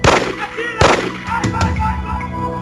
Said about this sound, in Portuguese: Testemunhas ouvem 3 tiros.